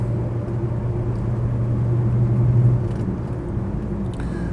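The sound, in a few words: Rover P6 3500S manual car driving uphill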